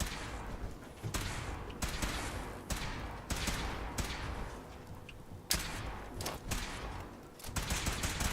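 Gunfire in Fallout 4 crackles in repeated bursts and sharp volleys, steady and fairly loud throughout, with heavy thuds breaking in every second or so and no talk.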